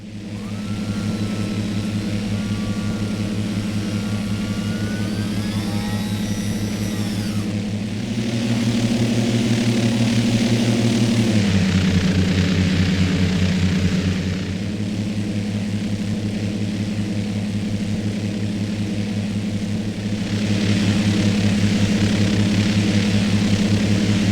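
Steady engine drone of a general aviation airplane in the X-Plane flight simulator game, a loud continuous hum that shifts pitch slightly a few times, with no talking.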